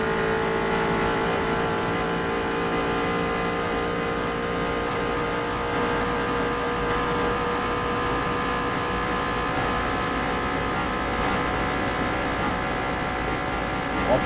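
Koenigsegg supercar engine running hard, a loud steady high-revving drone with layered harmonics that holds for the whole stretch, close and continuous with no talk over it.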